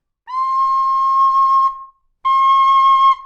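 A carbon fiber pennywhistle plays two clear, sustained notes with a pure, bright tone, separated by a short pause and heard up close with no talk.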